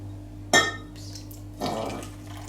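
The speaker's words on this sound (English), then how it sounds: "you just need to stir it until it's liquidy" Yeast being stirred into water in a container for a homemade loaf of bread: a sharp clink of a utensil against the container, then a soft swishing stir a second later, close and quiet.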